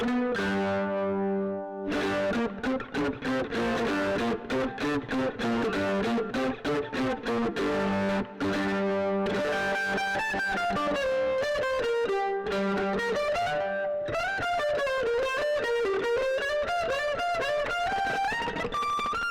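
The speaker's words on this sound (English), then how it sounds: "a quick example with my overdrive and distortion, something that would be impossible with a clip-on mic." A mandolin played through overdrive and distortion pedals and picked up by a Schertler DYN-M mic sounds gritty and sustained, moving from rhythmic chopped chords to flowing melodic lines.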